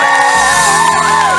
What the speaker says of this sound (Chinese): 给自己掌声加尖叫声